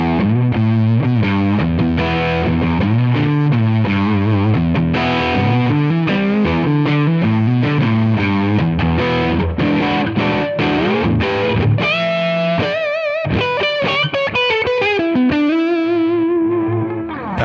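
An electric guitar on its middle pickup position, played through a distorted Tonex Mars-Rock capture, rings out as thick, saturated rock riffs and sustained chords, loud and continuous, ending with a bending, wavering held note.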